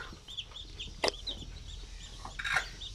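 Chickens cluck softly in a range area, several short calls scattered over a few seconds with one louder squawk, set against a steady low background hum.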